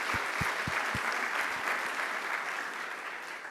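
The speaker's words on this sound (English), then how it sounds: "So I'm going to give you another round of applause because that's pretty spectacular." An audience at a university admissions event applauds steadily, a close, dense wash of clapping that fades slightly toward the end, with a few low thumps early on.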